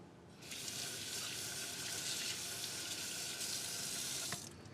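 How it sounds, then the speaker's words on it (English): A kitchen tap runs steadily as hands are washed under it before preparing cabbage slaw for pupusas, a close, even hiss of water that starts and stops cleanly with no talking. "Just gonna give my hands a good wash"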